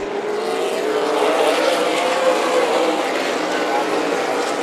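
Stock cars racing at Stockton 99 Speedway, a short oval track, fill the air with a loud, steady roar of several engines at full throttle that holds without a break.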